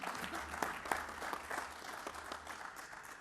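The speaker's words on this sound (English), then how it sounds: "Go ahead and clap about that." Audience at a town hall meeting in Oakland breaks into clapping, a dense spatter of many hands with a few sharper claps standing out, fairly faint and distant, fading slightly toward the end.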